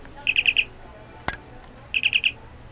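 A Wand Company Star Trek Original Series communicator replica sounds its chirp effect: two crisp bursts of four quick high chirps each, close and clear, with a sharp click between them over faint background hum.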